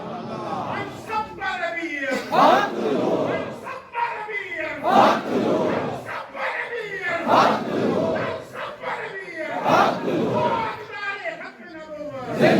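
A large crowd at a religious gathering in Pind Sultani chants a slogan in rhythmic call-and-response bursts, roughly every two seconds, loud and close, with a leading voice rising between the massed shouts.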